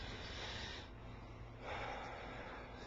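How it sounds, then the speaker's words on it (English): A slow, deep breath drawn in through the nose, quiet and close, with a brief pause partway through before the inhale swells again in a calm room. "take a deep breath in"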